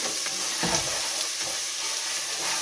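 Tomato paste sizzles and fries in hot oil in a pan for a cassava flour dish, a steady bright crackle with a few soft stirring scrapes, close and continuous with no talking.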